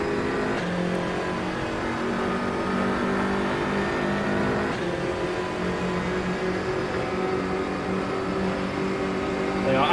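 Onboard sound from a GT3 race car during a championship race at Salzburg, a steady, close engine drone holding a fairly even pitch throughout, with no voices over it.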